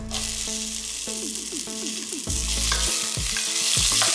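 Green onions cooking in a pot for a vegan carrot and ginger soup, sizzling and frying steadily with a few stirring scrapes and clinks, close and continuous without talk.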